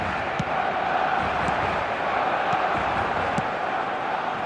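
Stadium crowd in the eFootball video game, a steady wash of cheering and roaring spectators, moderately loud and continuous with a few faint thuds.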